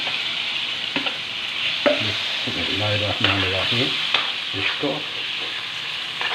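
Chicken meat for shawarma fries lightly in a pan with a steady close sizzle, broken by scraping stirs, while a voice talks over the cooking.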